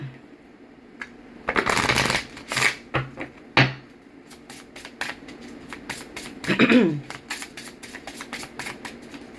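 A deck of tarot cards is riffled and shuffled up close in several quick bursts, followed by scattered light taps and clicks of cards being handled.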